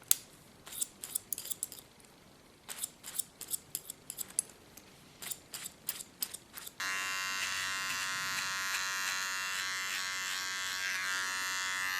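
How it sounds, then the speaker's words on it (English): Scissors snip through hair in quick close bursts, then a small electric hair clipper switches on and buzzes steadily and loudly for the last several seconds while cleaning the contour. "The small clipper, and this clipper is from Theo."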